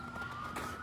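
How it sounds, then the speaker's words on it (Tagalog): Police car siren wailing outdoors during a winter storm, a steady faint tone carried from a distance over a low background rumble, with no voices. "naririnig nyo yung tunog ng pulis, siren ng pulis."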